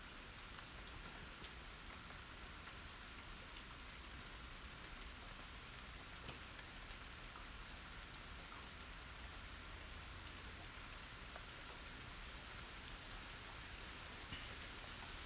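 Rain falls steadily outside as a soft, even hiss of drops with no pauses, faint and distant with no voices over it.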